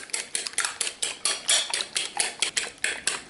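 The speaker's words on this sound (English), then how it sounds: "In a similar bowl, just beat your eggs with a fork" A fork beats eggs in a bowl for peanut butter cookies, giving rapid, rhythmic clinking taps against the bowl. The strokes come close and clear, about four per second, with no voices.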